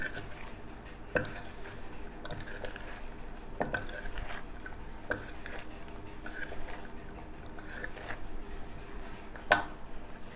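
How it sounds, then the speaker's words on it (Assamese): Mango pickle being mixed with ground mustard and spices, irregular clinks and scrapes of a utensil against a bowl at moderate volume, with steady faint background hiss and no talking. "দি পেলাই মই ভালদৰে মিলাই ল'ম"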